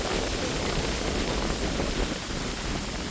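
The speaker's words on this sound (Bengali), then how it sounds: "বাবা কি জোরে হাওয়া হচ্ছে।" Strong wind roars without a break during a sudden storm with light rain, a dense, even rush of noise that fills the whole stretch with no voices.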